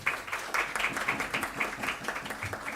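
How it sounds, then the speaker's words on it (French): Applause from roughly 500 people in an amphitheatre at the end of a lecture, a dense, steady patter of many hands clapping at moderate distance, continuous throughout with no voices over it. "les quelques 500 personnes de l'amphithéâtre que vous ne voyez pas ont applaudi"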